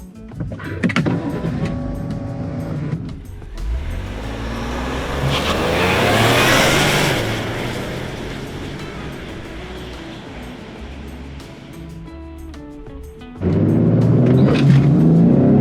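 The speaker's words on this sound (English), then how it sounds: "we have the SCT Tune loaded up onto the Explorer ST, as well as our intercooler. So we're gonna see how this performs 0 to 60" A Ford Explorer ST running an SCT tune and an upgraded intercooler launches for a 0-60 run, its engine revving hard and rising through the gears in a loud, surging roar, then settling before a fresh burst near the end.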